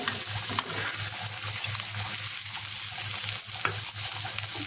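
Teasel gourd (kakrol) frying in a pan, a steady close sizzle with soft, occasional stirring scrapes and a low hum underneath, no voices.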